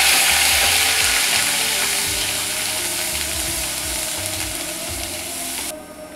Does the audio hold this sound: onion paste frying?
yes